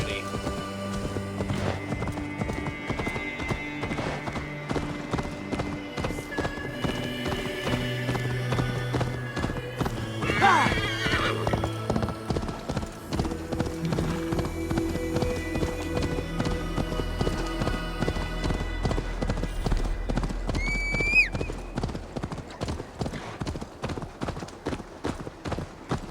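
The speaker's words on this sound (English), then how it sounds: "I really like the horse too. It runs pretty smoothly." A horse gallops in Assassin's Creed Valhalla with rapid, even hoofbeats throughout, a neigh rising briefly midway, all over game music with a voice talking at times.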